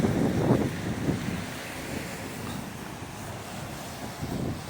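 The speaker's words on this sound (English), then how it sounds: "It's windy." Steady outdoor wind in Granton, Edinburgh, buffeting the microphone as a continuous low rumble with a few stronger gusts near the start and end.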